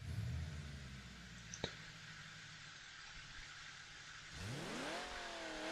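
A flame red Ram 1500 with a Hemi V8 engine and four-wheel drive, in the BeamNG driving game, idles quietly with a single click before the engine revs up sharply in a rising, climbing growl.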